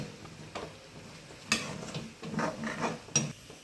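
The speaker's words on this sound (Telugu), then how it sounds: "అలా 5 minutes తర్వాత బాగా కొంచెం ఫ్రై చేసుకున్న తర్వాత అలా మనకి బబుల్స్ అయితే వస్తూ ఉంటాయి. సో జాగ్రత్తగా కలుపుకుంటూ ఉండండి." Prawn curry stirred in a frying pan, with soft scraping and occasional spoon knocks against the pan over a faint sizzle, quiet and close with no talking.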